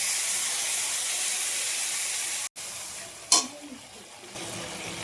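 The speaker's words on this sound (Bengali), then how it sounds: "এবারে দেখো এখানে আদা বাটা, আদা জিরে বাটা, নুন, হলুদ, লঙ্কা সব কষিয়ে নেবো সুন্দর করে।" Ginger-cumin paste with salt, turmeric and chilli frying in a pan, a steady close hiss and sizzle that drops out for an instant, then returns with a brief sharp spatter.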